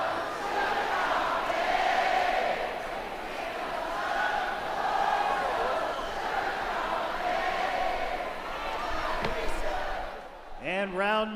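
A baseball crowd at Dunkin' Park in Hartford sings together in a stadium sing-off during a Party Animals vs Indianapolis Clowns game, a broad, steady roar of many voices that carries on without a break.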